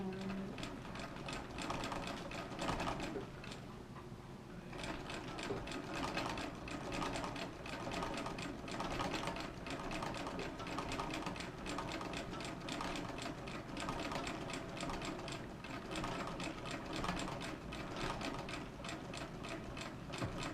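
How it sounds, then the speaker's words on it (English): A treble sewing machine runs in quick, rapid mechanical ticking bursts, steady and close, pausing briefly now and then before stitching on. "got the treble sewing machine out for this project"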